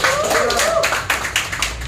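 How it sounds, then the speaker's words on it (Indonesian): Scattered hand claps from a church congregation during a service, a few sharp separate bursts over a voice that talks through the start. "Ya, beri tepuk tangan dong."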